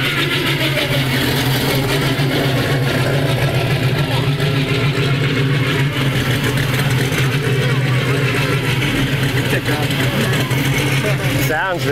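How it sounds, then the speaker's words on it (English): A 1970 El Camino cruising by at a car club meetup, its loud, steady V8-style rumble close and continuous, with a person speaking over it. "And here, cruising by, is a 1970 El Camino."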